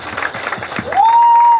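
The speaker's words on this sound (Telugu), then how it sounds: "and big clap for తెరచాపా please" Scattered audience clapping at the teaser launch event for the film Therachapa, brief and uneven, then cut off by a steady high-pitched microphone feedback whine.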